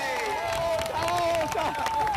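Outdoor crowd in Piazza dei Signori, Treviso, clapping and cheering in an ovation, a busy wash of applause mixed with babbling voices and a few louder calls.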